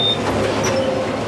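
A 72-inch Wicked brush cutter with four blades runs its engine at a loud, steady, broadband drone that holds evenly with no talk.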